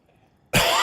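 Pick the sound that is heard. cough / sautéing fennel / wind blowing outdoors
cough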